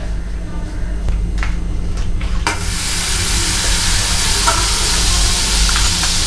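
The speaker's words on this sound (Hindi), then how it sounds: "बटर डाल दिया है हमने।" Butter sizzles and hisses steadily in a hot pan as the base for a white sauce for pasta, a constant frying hiss with a few light stirring clinks, starting faint then jumping louder midway and staying close.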